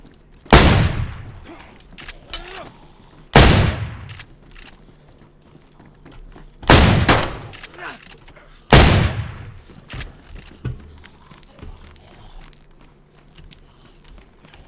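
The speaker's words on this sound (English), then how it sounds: "Is he shooting at me?" Four loud, sharp gunshots ring out at roughly three-second intervals, each trailing off, followed by a few fainter shots; a voice briefly talks between them.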